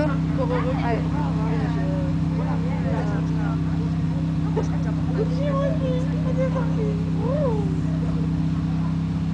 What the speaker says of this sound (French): il y a une moto qui est en train de faire son truc